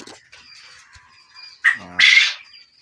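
Quail chicks at a poultry farm give a few sharp chirps and squawks, close and fairly loud, with two bursts in the latter half following quieter faint chatter.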